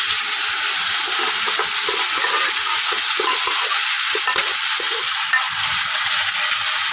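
Spiced masala frying in oil as boiled chickpeas go into the pan, giving a loud, steady, close-up sizzle that runs unbroken throughout with no talking.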